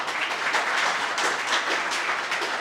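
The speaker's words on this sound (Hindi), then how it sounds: "सबसे पहले तो आप खुद के लिए तालियां बजाइए।" A large audience at a Delhi Police selection celebration event claps at length, a dense, sustained wash of many hands that stays even and moderately loud throughout.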